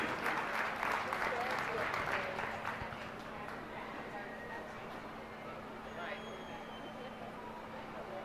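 Audience applause for exhibitors at a youth beef cattle show, moderately loud clapping for the first few seconds that thins out and fades into a quieter hall with murmuring and background noise.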